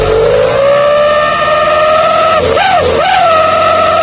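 Loud truck "knalpot srigala" exhaust horn wailing a sustained, siren-like tone, holding steady then dipping and wobbling briefly before resuming, close and dominant over a low engine idle.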